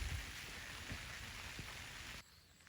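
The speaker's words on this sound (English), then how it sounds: "it's raining harder now" Steady rain patters on a garden and plants, a dense even hiss running loud and close until it drops sharply near the end.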